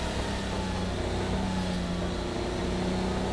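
Race car in Project Cars 2 with a steady, high turbo whine riding over a continuous engine drone, loud and close, no talk.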